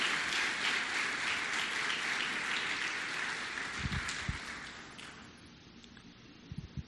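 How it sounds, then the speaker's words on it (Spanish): Church congregation applauding during a Sunday morning service, a dense wash of clapping that holds steady, then thins and fades, leaving a few scattered claps and soft thumps at the end. "le brindemos un fuerte aplauso a todas las personas que colaboran"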